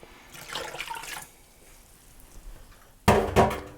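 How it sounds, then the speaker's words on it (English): Homemade vegetable broth poured into a pan, a brief watery gush early on followed by a louder splashing pour near the end, close with no talking. "I made the vegetable broth this morning. It is a nice dark color and it's just beautiful. So I'm going to add this into my pan as well."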